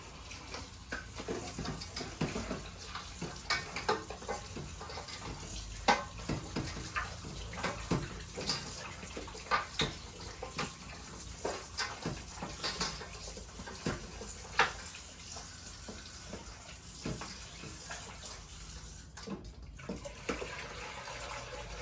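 Running tap water splashing over chicken and beef bones being washed in a sink for broth, a continuous close stream with intermittent clatter and splashes as the bones are handled.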